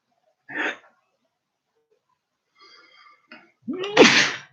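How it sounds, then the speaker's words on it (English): A single loud sneeze bursts out near the end, preceded by a short sharp breath and a few small catches in the throat. "an inadvertent sneeze, which I couldn't avoid due to allergies"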